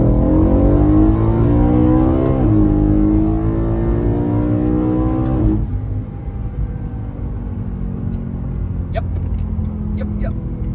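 A 2011 BMW E92 M3 GTS accelerates hard in second gear, its engine note rising loud and close from inside the cabin, then dropping at the shift before settling to a lower drone, with a voice speaking underneath.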